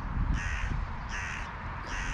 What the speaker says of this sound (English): I did hear a call go out from one of the crows